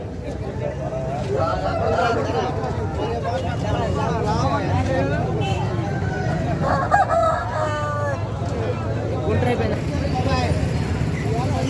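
A rooster crows repeatedly amid a noisy, busy country chicken market in Vijayawada, India, with people talking nearby and other chickens clucking.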